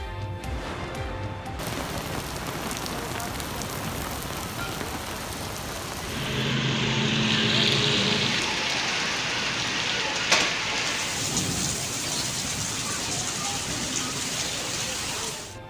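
Heavy monsoon rain pours in Punjab, Pakistan, a dense steady roar of drops on surfaces that swells midway, with one sharp crack near the end; no clear thunder rumble stands out.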